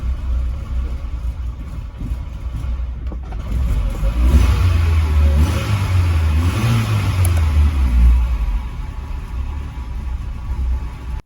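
A VW Polo Mk2 breadvan engine runs steadily at idle, a low continuous rumble that swells slightly in the middle as it revs a little, with no talking.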